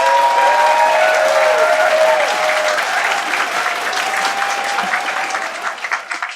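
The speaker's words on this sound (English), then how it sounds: "All right, one more big round of applause for Chocolate the Entertainer!" A crowd applauds steadily, dense clapping filling the room, with faint voices and whoops mixed in before it gradually thins at the end.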